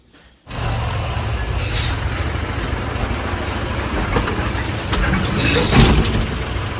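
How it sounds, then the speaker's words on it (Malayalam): A bus pulls in with a steady, loud engine rumble after a brief quiet start, broken by a few sharp hissing bursts like air brakes near the end. "അപ്പോഴത്തേക്കും ബസ്സൊക്കെ വന്നിട്ടുണ്ട് കേട്ടോ"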